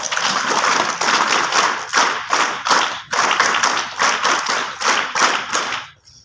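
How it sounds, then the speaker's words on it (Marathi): An audience in a hall gives a loud, steady round of clapping for Savitribai and Jyotiba Phule, rising and falling in rhythmic waves before fading out at the end. "एकदा आपल्या सावित्रीबाईंसाठी आणि ज्योतिबांसाठी जोरदार टाळ्या होऊन जाऊ द्यात"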